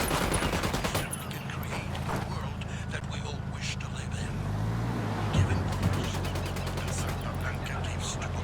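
Gunfire in the video game Ghost Recon Wildlands, a dense, continuous fusillade of rapid shots over engine rumble, running loud and steady throughout with bursts cracking across the mix.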